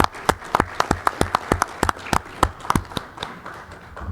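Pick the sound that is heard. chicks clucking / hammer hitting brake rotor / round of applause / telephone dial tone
round of applause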